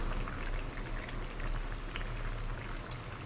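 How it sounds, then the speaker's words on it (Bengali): Fish curry with drumsticks, potato and tomato bubbling hard in a pan on a high flame, a steady close simmer of popping bubbles with no talk. "হাই ফ্লেমে 1 মিনিট মতো ফুটিয়ে নেব"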